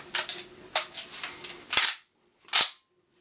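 Mechanical clicks and clacks come from a Pardus shotgun as its crossbolt safety and action are worked, a quick series of sharp metallic snaps close up, ending with two louder clacks separated by a brief pause.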